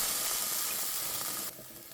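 A masala prawn curry mixture frying in a pan gives a steady, close, broad sizzling hiss that drops noticeably quieter about two thirds of the way through.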